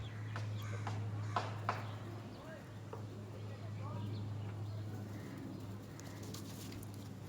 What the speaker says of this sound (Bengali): এটা হচ্ছে একটা ফিমেল কবুতর